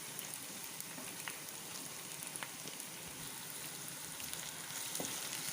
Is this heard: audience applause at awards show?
no